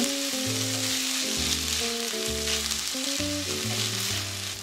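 Rice toasting in a pot, a steady broad sizzle holding level throughout, with background music playing over it and no talking.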